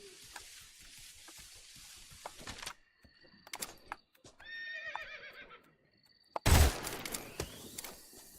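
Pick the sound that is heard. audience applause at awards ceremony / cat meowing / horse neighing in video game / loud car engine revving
horse neighing in video game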